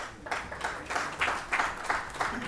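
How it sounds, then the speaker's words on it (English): Scattered audience applause at a conference session on Web3 and blockchain, fairly faint and thin, with soft bursts of clapping rising and falling over a couple of seconds. "a big round of applause"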